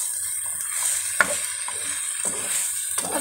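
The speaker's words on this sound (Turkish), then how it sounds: "Azıcık böyle sotelensin." Meat sizzles steadily in a hot pan while a utensil scrapes and stirs it now and then, close by.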